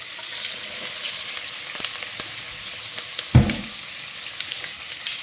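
Vadagam seasoning balls are being fried in oil, giving a faint, steady sizzle with a sharp burst of crackling and spluttering partway through, then settling back.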